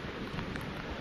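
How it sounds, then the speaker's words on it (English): A deep, continuous rumble of thunder mixed with the hiss of rain near a waterfall, filling the short moment at a steady, moderate level. "Did you hear the thunder?"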